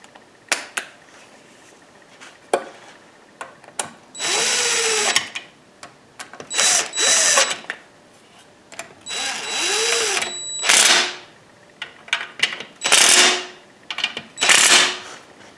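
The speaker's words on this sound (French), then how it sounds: "je vais y aller juste avec la visseuse" A cordless power screwdriver whirs in repeated bursts while driving bolts on a 2012 Nissan Versa, loud and close, each run a second or so long, separated by clicks and clanks of tools and parts.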